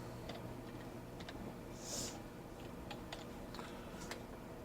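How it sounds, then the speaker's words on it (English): Commands typed on a computer keyboard, quiet irregular key clicks in short bursts over a low background hum. "So I'm just quickly going to type again the same things."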